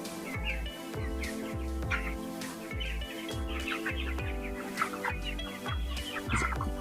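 Broiler chickens at 24 days old cluck and call repeatedly in a poultry shed during weighing, under a rhythmic low mechanical thumping that pulses about once every half second.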